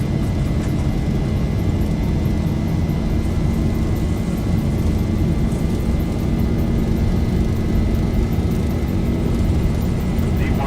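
Airliner engines roaring at takeoff power during the takeoff roll in the X-Plane 11 flight simulator, a steady, loud broadband rumble and hiss that holds level throughout with no break.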